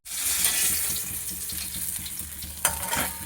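Fish head frying in oil in a kadai while making moong dal, a steady crackling sizzle close up with a brief louder spatter near the end and no voices.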